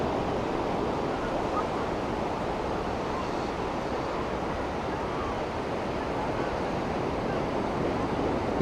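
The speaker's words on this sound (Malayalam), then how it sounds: "അത്യാവശ്യം നല്ല തിരമാലയുണ്ട് അവിടെ" Pacific Ocean surf at a surfing beach in San Francisco roars as a continuous, even wash of breaking waves, mixed with wind buffeting the microphone.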